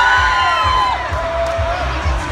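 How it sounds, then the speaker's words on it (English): A crowd at a Disney California Adventure Thor and Loki pre-show cheers and whoops for Loki, a loud, sustained roar of mixed voices with a few high shouts over the top. "Will you cheer for Loki?"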